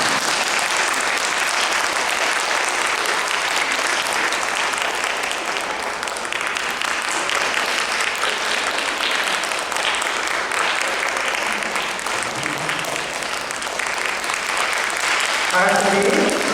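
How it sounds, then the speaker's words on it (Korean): A church congregation at a Sunday service applauds to welcome new members, with steady, full clapping that carries on for the whole stretch and swells slightly toward the end, with some voices mixed in. "축복하는 마음으로 박수로 환영하겠습니다"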